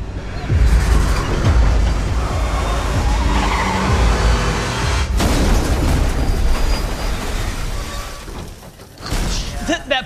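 Loud, rumbling film visual-effects explosions from Resident Evil: Welcome to Raccoon City roll and crash over a dense roar, with a sharp burst midway and another surge near the end.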